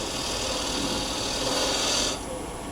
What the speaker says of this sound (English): I'll just take my spindle gouge and clean this up a little bit, just putting the bevel on